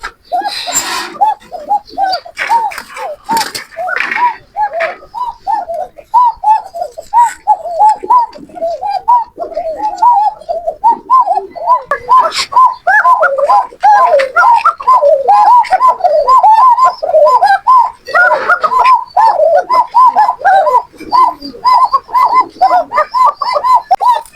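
A pair of Koka pigeons coos repeatedly up close, their soft rolling calls overlapping in a steady rhythm with a few sharp knocks and scrapes early on.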